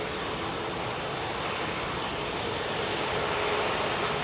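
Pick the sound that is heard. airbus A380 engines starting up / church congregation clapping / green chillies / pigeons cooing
airbus A380 engines starting up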